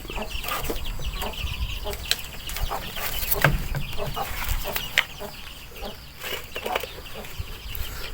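Many chickens cluck and squawk at once inside a coop in a dense, busy chorus, with occasional sharper calls and rustling over a constant background murmur.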